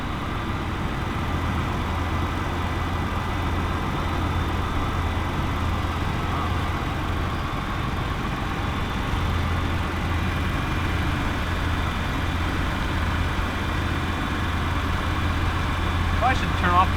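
A 2021 Ford F-150 EcoBoost engine idles steadily with a low, even hum and a faint belt whir, running continuously under talking nearby.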